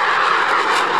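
Mirage 2000 delta-wing jet at an airshow, a loud steady engine roar passing close overhead without pause.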